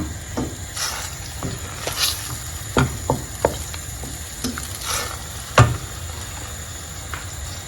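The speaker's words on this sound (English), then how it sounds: "And I'll add my blended fresh paprika, onion, garlic, and pepper. Stir everything in." A blended paste of fresh paprika, onion, garlic and pepper is stirred in a pot with a low simmering sizzle and irregular scrapes and knocks of the spoon against the pot, close by with no voices.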